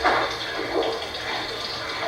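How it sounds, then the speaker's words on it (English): A light shower of water sprays onto Mino washi paper to make the dotted rakusuishi style, a steady soft hiss of falling droplets. "which are made by putting the paper in a light shower"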